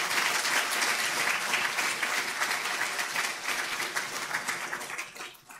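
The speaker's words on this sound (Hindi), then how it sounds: "आप सब लोग ताली बजाकर माननीय मंत्री जी का स्वागत करें।" A hall audience at the Udyami Bharat MSME Day 2023 event gives the minister dense, sustained applause at an even level that tapers off in the final second.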